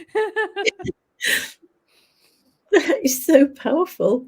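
A single sharp sneeze bursts out briefly in the middle of a person's speech, which pauses around it and then resumes.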